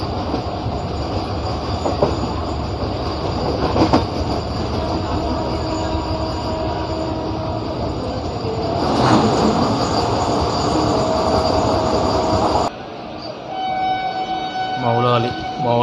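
Push-pull MEMU train running between Warangal and Secunderabad, heard from onboard as a loud continuous rumble with rhythmic clickety-clack of wheels over rail joints and occasional squeal, close and steady, with the noise dropping near the end.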